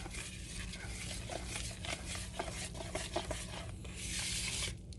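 A spoon or whisk stirs chocolate cupcake batter in a mixing bowl, giving a steady close scraping and stirring texture with light taps against the bowl, with no talking.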